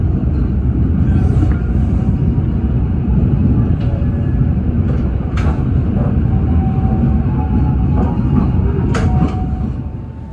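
The Banyubiru Express passenger train rumbles along steadily at close range after leaving Gundih station in Indonesia, with a dense low roar of wheels on track and occasional clanks and squeals.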